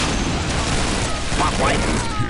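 Weapons firing in Unreal Tournament 2004, a rapid, continuous fusillade of gunfire and booms filling the whole stretch, with excited voices mixed in.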